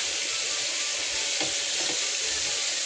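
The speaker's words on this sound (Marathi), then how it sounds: "असं पलटून शेकून घे चांगले" Tandoori chicken pieces sizzle loudly and steadily in a hot pan as they are flipped and roasted, a dense, continuous frying hiss with faint scrapes from turning.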